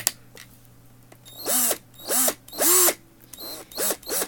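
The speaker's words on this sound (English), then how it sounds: "hold it with the pliers, and then you just run your drill" A power drill twists wire held with pliers, whirring in four short bursts, spinning up and winding down each time, close and loud with brief quiet gaps between.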